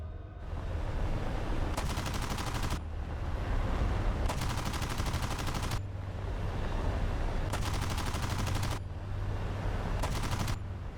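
Sustained bursts of rapid cannon fire from a jet fighter in a 1956 Suez air combat, long continuous rattling volleys separated by short gaps over a steady engine roar.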